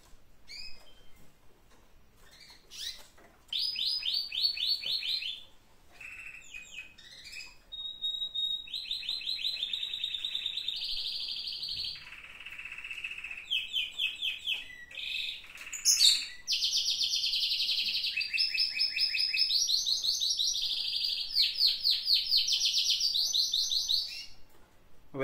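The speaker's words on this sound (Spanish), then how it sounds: "son cuatro notas lo que están haciendo ahora mismo los pájaros." Small cage birds sing in long bright trilling phrases and rapid chirps, several voices overlapping close by with short pauses between bursts and no one talking.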